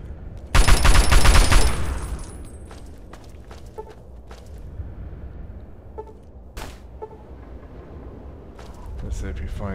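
Gunfire in Fallout 3 on Very Hard difficulty: a loud burst of rapid shots in the first two seconds, then isolated sharp reports and scattered footsteps over background game ambience.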